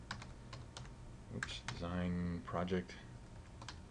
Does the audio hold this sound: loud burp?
no